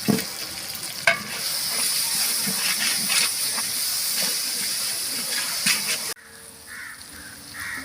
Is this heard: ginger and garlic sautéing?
yes